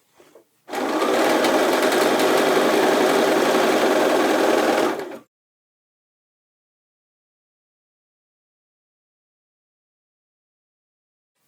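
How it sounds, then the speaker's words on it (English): A sewing machine stitches a 3/8 inch seam allowance around the crotch curve of a pair of pants, running loud and steady for about four seconds before stopping, followed by silence. "And then we're going to sew a 3/8 inch seam allowance all the way around the entire crotch curve."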